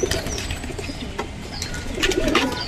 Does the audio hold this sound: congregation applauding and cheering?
no